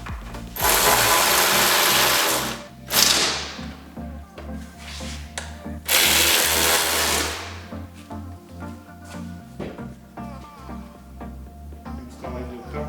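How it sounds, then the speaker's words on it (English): A ratchet tightening bolts on the gas tank of a 2019 Harley-Davidson Street Glide, with bursts of rapid clicking and mechanical whirring at close range and no talk. "Now start all of these bolts before you tighten any of them."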